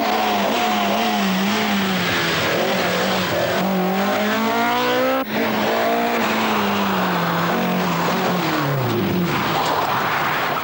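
A 1982 Ulster Rally car is driven hard along a stage, its engine screaming loud and close, pitch rising and falling through gear changes and revs, continuous with no voices.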